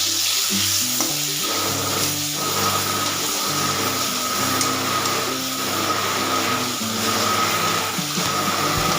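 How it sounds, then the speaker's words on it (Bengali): Eggplant pieces with a little salt and turmeric sizzle and crackle in hot oil, with a steady frying hiss and intermittent scraping and stirring sounds in the pan. "অল্প নুন হলুদ দিয়ে বেগুনগুলোকে আমি ভেজে নিচ্ছি।"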